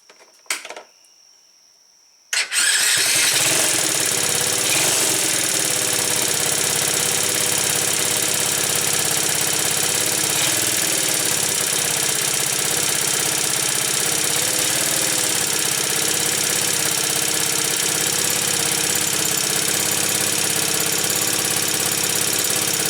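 A Tao Tao 125 quad's small engine starts after a carburetor repair and runs steadily at a loud, even idle for about twenty seconds, after a brief quiet stretch with a few clicks.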